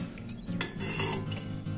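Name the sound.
small lid placed on a pot on a camping gas stove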